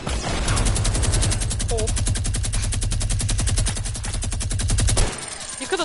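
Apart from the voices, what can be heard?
gunfire in Fortnite video game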